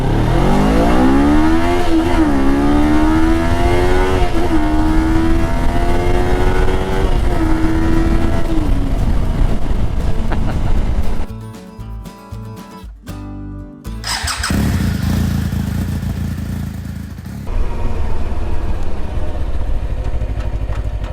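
Kawasaki Versys 300 dual sport motorcycle out on a clear, chilly day around 50 degrees; the engine revs loud and close with a climbing pitch, then cuts off abruptly into rougher, broken engine noise before picking up again.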